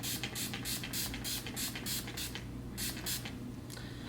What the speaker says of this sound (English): it's a nice fine spray